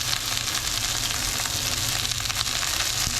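Pork chops sizzle in a skillet, a dense, continuous, close-up frying hiss with fine crackling and no voices.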